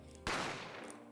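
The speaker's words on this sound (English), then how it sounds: "I didn't have time to think about where the sound of the gunshot had come from" A single sharp gunshot goes off in The Great Ace Attorney Chronicles video game, a loud sudden blast that rings out and then fades slowly.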